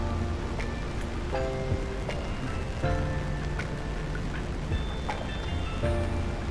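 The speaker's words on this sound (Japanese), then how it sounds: "そして最後にこの雨の日の音でお別れなので" Steady rain on a rainy day in Japan, spring cherry-blossom season near Honjo Dam, a close, continuous patter of drops striking surfaces, with scattered sharper ticks of larger drops and faint tonal background sounds.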